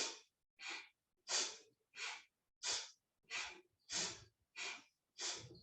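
Nine forceful, rhythmic breaths during a meditation exercise, each a sharp, close, airy rush lasting about half a second and separated by brief silences, with no talk.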